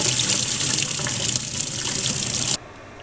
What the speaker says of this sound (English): Here is how it works under a faucet.